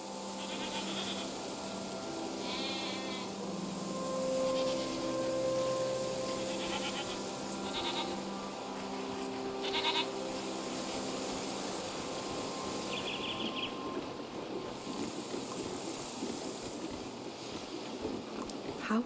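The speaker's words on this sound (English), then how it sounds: "I'm petting this goat for you." A goat bleats several times in the video game SEASON: A Letter to the Future while being petted, short wavering cries over a steady ambient bed with light rustling, no talk.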